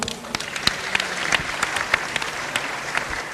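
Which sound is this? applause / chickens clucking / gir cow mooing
applause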